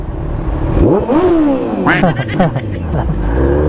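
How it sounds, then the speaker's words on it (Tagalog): A Kawasaki ZX-14R motorcycle with a titanium exhaust revs repeatedly with a full, throaty roar that rises and falls, close up, while people talk over it. "Yung titanium exhaust na napili natin, hindi siya punit, buo yung tunog niya."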